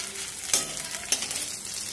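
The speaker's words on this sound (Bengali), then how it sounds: "আদা রসুনের পেস্টটা ভাজা হয়ে গেলে" Ginger garlic paste fries in a pan with fried onions, giving a steady close sizzle broken by two brief louder hisses as it is stirred.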